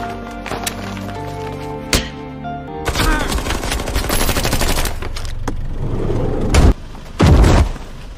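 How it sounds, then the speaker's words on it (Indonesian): Gunfire in an Indonesian mafia film scene, with sharp loud shots at irregular intervals and bursts of rapid fire, set against a dense score and effects. "kini berniat menembak Samsul sebelum pergi dari tempat itu"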